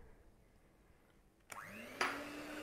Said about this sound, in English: I'm now going to just quickly whip up the icing